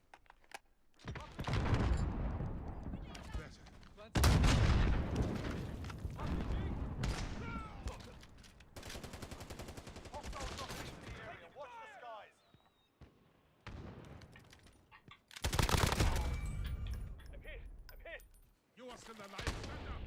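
Gunfire in Call of Duty: Warzone on Rebirth Island, repeated loud bursts and single shots in clusters, mixed with game effects while someone talks over them.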